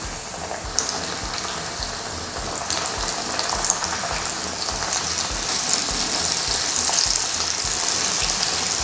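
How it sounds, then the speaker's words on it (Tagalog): Breaded chicken pieces frying in hot oil for sesame-glazed nuggets, a loud, steady close sizzle and crackle with faint clinks from the pan, continuous throughout with no voices. "Pwede na nating iprito itong mga chicken pieces."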